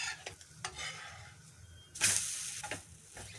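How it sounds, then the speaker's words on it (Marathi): A besan chilla (dhirde) sizzles in a hot pan, with a soft hiss, scraping and stirring touches, and a louder burst of frying when it is flipped partway through. "चला, आता आपण हे ढिंडर पलटी मारून घेऊया।"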